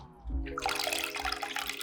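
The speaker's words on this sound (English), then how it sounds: "Start with washing the lentils thoroughly, at least 2 to 3 times, and discard the water each time." Water from a kitchen tap runs and splashes as lentils are rinsed before cooking sambar, a steady close gush with no talking.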